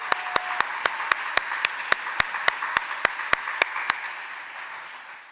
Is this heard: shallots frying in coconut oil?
no